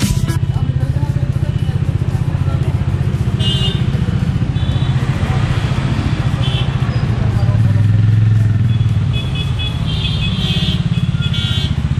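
A Bajaj Dominar 400 motorcycle, BS4-compliant, idles with a steady, loud, close engine thrum and a slight rise in revs midway, heard on a street in Karol Bagh.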